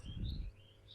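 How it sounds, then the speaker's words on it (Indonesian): Birds chirp faintly in the background, thin high calls rising and falling twice over a low rumble, distant and quiet. "Banyak suara burung, iya nggak apa-apa."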